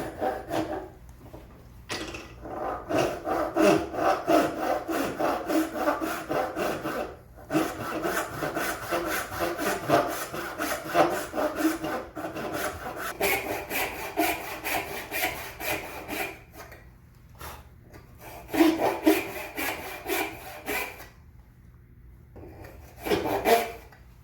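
Hand saw cutting straight across wood while building a try square, steady rhythmic back-and-forth rasping strokes close by, pausing briefly a few times, with no talking.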